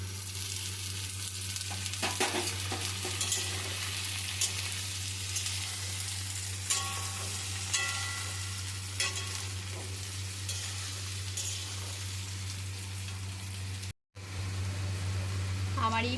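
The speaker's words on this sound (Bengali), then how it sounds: "আমার এই ভেজিটেবিলগুলো ভাজা হয়ে গেছে" Vegetables including green peas fry in a kadai for fried rice, a steady sizzle with occasional scraping stirs of a spatula, accompanied by a constant low hum, with brief talk.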